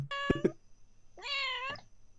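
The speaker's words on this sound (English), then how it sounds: "Here's a cat that's suddenly decided it's not an outdoor cat. Wants back in." Two short meows followed by a longer, drawn-out plaintive meow from a cat wanting to be let back indoors, fairly close, with quiet background otherwise.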